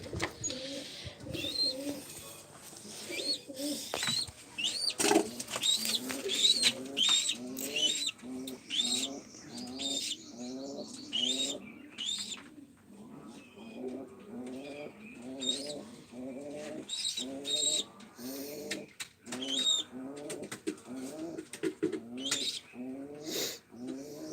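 Pigeons coo repeatedly in soft, rolling phrases throughout, close by, with a few faint chirps mixed in and no talking.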